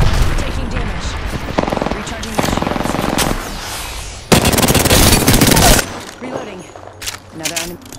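Apex Legends gunfire, loud close bursts of automatic weapon fire in several separate volleys, the heaviest a long sustained burst, mixed with game voice lines and combat noise.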